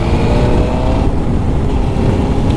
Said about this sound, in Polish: no silnik nie wydaje tu żadnych niepokojących dźwięków